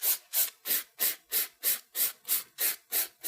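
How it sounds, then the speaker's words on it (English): A nail file rasps back and forth across a fingernail in about ten even, close strokes, each a short bright scratch with a brief gap between, alone and unaccompanied by talk. "we're just going to file it just so it's nice and smooth and neat"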